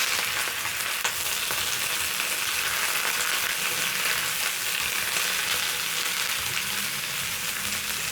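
Spinach sizzling and frying in butter in a pan, a steady close crackling hiss throughout with no talking.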